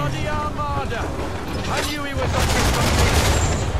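Booming ship cannon fire from an Assassin's Creed III naval battle, several heavy blasts rolling together, with people talking over the noise.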